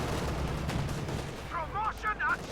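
Gunfire in the Company of Heroes 2 battle rumbles as dense, low booming bursts over a busy combat backdrop, with a voice commentating partway through.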